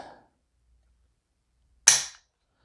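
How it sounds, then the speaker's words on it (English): Dry fire of an AR-15 rifle trigger on a Wheeler trigger scale: a single sharp metallic snap near the end, after a brief faint click, otherwise silence. "5-pound trigger pull."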